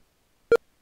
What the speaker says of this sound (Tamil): டவுன்லோட் பீப் சவுண்ட் வேறு பலமாக இருக்குது